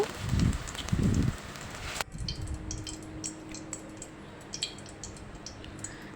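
Jackfruit seed fritters sizzle and crackle in hot oil, with a loud clatter as the remaining batter goes into the pan and steady light popping and spitting afterward.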